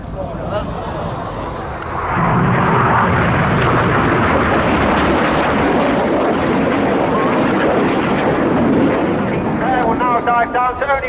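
Display jets dive low over the airfield at the RAF Cosford Airshow, and after a quieter opening a loud, sustained roaring rush swells and holds for several seconds, with crowd and commentary blended in beneath.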